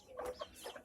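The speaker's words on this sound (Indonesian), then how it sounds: "Tuh, ada ayam juga tuh." A few soft chicken clucks come in quick succession, faint and very short.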